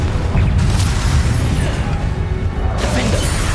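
A Confringo spell blast in the video game Hogwarts Legacy bursts with a heavy, booming whoosh, a loud sustained rumble and crackle with a second surge of energy near the end.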